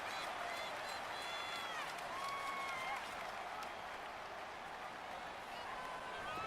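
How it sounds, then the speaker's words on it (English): Stadium crowd in Madden NFL 19 roars and cheers continuously with scattered applause ahead of a big third down, a loud, steady wash of noise with whistles and shouts rising through it. "the crowd getting into it as we come up on a big third down"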